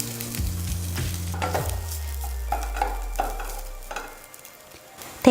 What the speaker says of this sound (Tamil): தேங்காய் இப்போ நல்லா வறுத்துட்டோம்